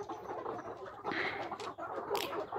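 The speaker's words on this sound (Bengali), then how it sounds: "এখানে দেখতে পাচ্ছেন অনেকগুলো মুরগি আছে, প্রায় 650-র মতো।" Young layer chickens in a poultry shed of about 650 birds cluck and chatter continuously at moderate distance, with overlapping calls and a few sharper squawks, and no talking.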